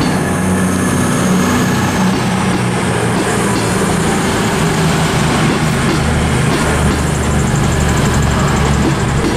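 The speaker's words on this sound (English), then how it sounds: "making its departure is going to be the 1617 cross-country service heading to Birmingham New Street from Manchester Piccadilly" CrossCountry Class 221 Voyager unit 221144 pulls out of Wolverhampton station on the 1617 service from Manchester Piccadilly to Birmingham New Street, a steady loud diesel rumble with rail noise filling the platform throughout.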